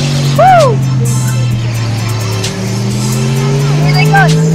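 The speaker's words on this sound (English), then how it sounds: "Have a look at those cars go!" Banger racing cars roar around a track up close, with loud sustained engine drones and pitch-sweeping revs as cars pass. Excited spectators shout and cheer over the racket.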